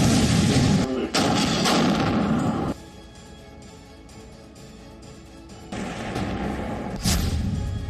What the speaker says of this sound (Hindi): ज़ेलेंस्की के जन्म स्थान में भारी गोलाबारी।